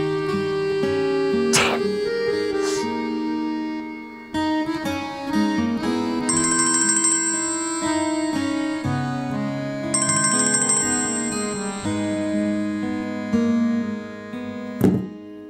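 A melodic mobile ringtone plays during an outgoing call in a drama scene, loud and continuous, with a repeating tune and bright high chimes, briefly interrupted near the middle, and ends with a thump.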